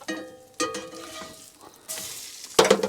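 Butter sizzles in a frying pan, with stirring and scraping near the start, then a bright hiss swells in two loud bursts toward the end. No one speaks.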